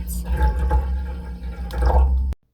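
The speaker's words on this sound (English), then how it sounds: "you need to put in 8 ounces of water in your pan or pot" Water runs from a tap into a cooking pan or pot, a close splashing and trickling stream in two louder surges before it cuts off abruptly, with faint speech underneath.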